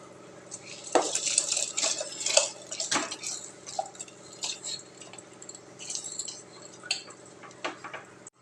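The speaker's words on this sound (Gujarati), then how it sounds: "આપણે તેમાં ભાત એડ કરી દઈશું." Rice tipped into a pot of boiling water in a home kitchen while cooking a Gujarati thali: close clinks of metal and a short run of splashes and bubbling, then quieter clatter, with no voices.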